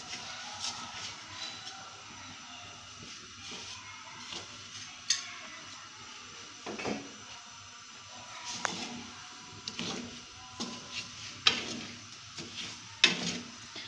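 A spoon stirring sweet corn kernels as they roast in salt in a pan over low heat, making faint scraping and light ticking clicks that recur irregularly throughout.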